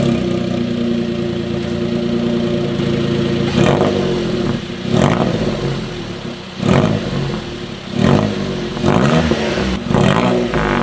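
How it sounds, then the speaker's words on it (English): A £1000 track race car's new exhaust: the engine idles with a rough burble, then snaps into a series of sharp revs, about six throaty bursts rising and falling, loud and close. "let's finally hear how this exhaust sounds."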